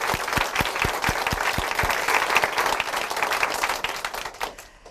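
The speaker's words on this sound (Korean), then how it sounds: "다시 우리 하나님께 영광의 박수 함께 올려드리기 바랍니다" A church congregation applauds in praise at a Christian testimony broadcast: steady, full clapping from a sizable crowd, with several sharp individual claps standing out early, fading away near the end.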